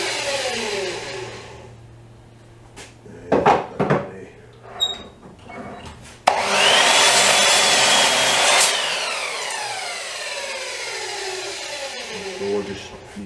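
A power saw cuts the ends off a length of wooden stock being prepared for a lathe, whining loudly for a couple of seconds after some handling knocks, then winding down.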